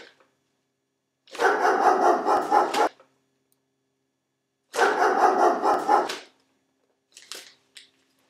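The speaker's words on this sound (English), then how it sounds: "For safety reasons, we've come up with a barking bag." A novelty barking bag lets out two long, loud bursts of rapid electronic dog-like barking separated by silence, followed by a couple of brief, quieter yaps.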